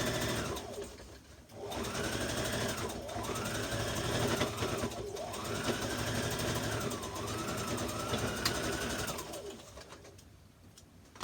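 A sewing machine double-stitches the waist of a red zip-front jumpsuit, its motor whirring close and loud in repeated rising-and-falling runs.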